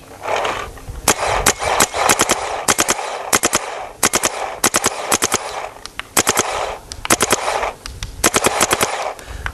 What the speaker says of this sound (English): This gun pretty much shot the tank completely dry and was still cycling.